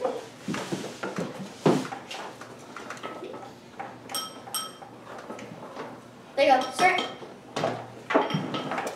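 Slime is stirred in a bowl, with soft scraping and scattered clinks of the utensil against the bowl coming in irregular bursts while voices talk over it.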